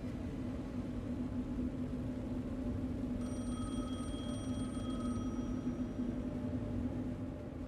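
A telephone rings in the video game Alan Wake II, a steady repeating electronic ring entering midway over a low droning ambient rumble, fairly faint and heard alone.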